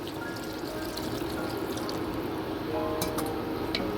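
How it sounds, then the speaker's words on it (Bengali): Water poured into a pan of okra and potatoes cooking in mustard, a soft continuous splash and sizzle over steady background noise, brief brighter spatters near the end. "দেখুন আমি একটু জল দিয়ে দিচ্ছি।"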